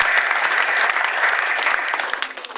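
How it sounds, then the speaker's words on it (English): Audience applause at the ROC Foundation 2013-2014 award ceremony: dense, sustained clapping from a crowd that holds steady for a few seconds before thinning slightly at the end. "Let's give a round of applause."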